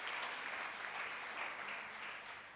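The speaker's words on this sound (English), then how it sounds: "We may clap hands for Jesus." Crowd clapping hands at a church gathering, continuous, moderately soft applause from many people lasting throughout with no voices on top.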